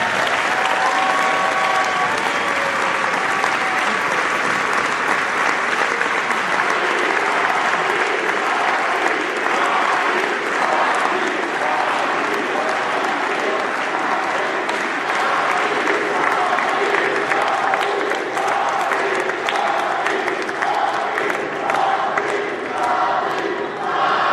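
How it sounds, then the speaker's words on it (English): Loud, sustained applause and cheering from a crowd at a college men's basketball game honoring two coaches, a continuous wash of clapping with shouts and voices mixed in, close and full for the whole stretch. "one more round of applause for Coach Lamar and Joe"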